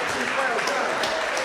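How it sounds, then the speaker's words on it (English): A crowd at a village meeting claps steadily for the village chief, a dense even patter of applause at moderate distance. "Let's give our chief another round of applause."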